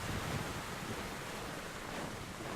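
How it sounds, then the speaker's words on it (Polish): Steady wash of rain and rushing wind in the video game Metro: Last Light, a dense even noise with no breaks or voices throughout. "Pada deszcz, wieje wiatr."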